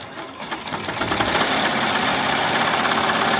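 A Melco embroidery machine stitches at speed, a dense, steady, rapid mechanical chatter that swells over the first second and then runs loud and continuous.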